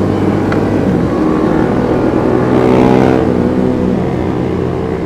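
A Kawasaki ZX-25R motorcycle at a Sunday group ride gives a loud, sustained high engine whine that rises slightly near the middle, with no talking.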